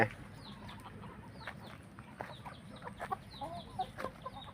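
Hens clucking in short, scattered calls at moderate distance, with a steady low farmyard hum underneath and no talking.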